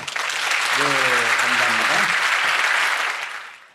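An audience breaks into a burst of thankful applause, loud and dense for about three seconds before tapering off, with a voice briefly speaking over the start.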